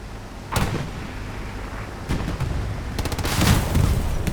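A flimsy Puma armored vehicle in Division 2 is torn apart by gunfire, with sharp bursts of shots and impacts building into a dense volley near the end.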